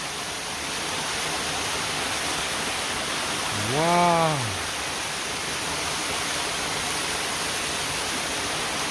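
A river in nature flows with a steady, full rushing hiss. A voice gives one brief exclamation midway over the water.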